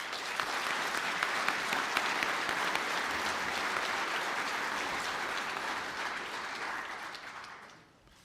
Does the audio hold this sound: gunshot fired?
no